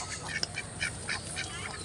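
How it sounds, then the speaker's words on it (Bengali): A flock of ducks in a village duck house quack in a rapid run of short, nasal calls close by, with a brief voice at the very end. "দেখেন কত হাঁস।"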